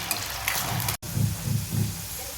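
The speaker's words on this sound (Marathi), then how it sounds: "इथे तुम्ही बघू शकता आपला बटाटा पण छान असा फ्राय होत आहे" Potato pieces fry in an oil-filled pan with a steady sizzle, and a few soft stirring scrapes pulse underneath; one brief dropout breaks the sound near the middle.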